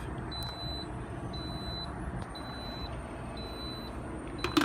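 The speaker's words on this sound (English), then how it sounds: "That's the saute timer going off." An Instant Pot's saute timer sounds a series of evenly spaced, thin electronic beeps while chicken cooks for a red quinoa dish, with a low kitchen hum underneath.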